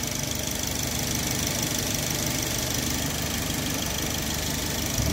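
A car engine running steadily during a crankshaft sensor test, a loud continuous mechanical drone with a fine rhythmic pulse, close and unbroken, no voices.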